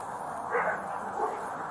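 A police dog gives two short barks during an armed standoff at a suspect's hiding spot, somewhat distant and muffled over a steady background hiss.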